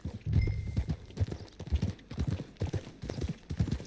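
A horse trots in the video game Red Dead Redemption 2, making a steady run of close, crisp clip-clop hoofbeats that repeat in a quick, even rhythm for a few seconds.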